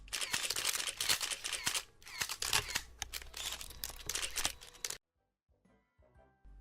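Camera shutters click in an animated vaccination scene: rapid, crowded bursts of loud clicking for about five seconds, then a sudden cut to near silence.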